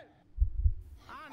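The Minecraft heartbeat sound effect gives two deep, muffled thumps in quick succession, followed by a voice speaking.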